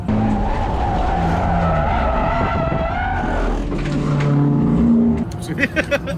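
A Toyota Corolla race car spins out on the Thunder Hill track, giving a loud, sustained tire skid and scrub with engine noise for about five seconds before it trails off, with a voice briefly audible.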